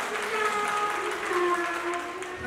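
A crowd at a Thai press conference for a girl group's concert applauds in a steady, dense burst of clapping that runs throughout.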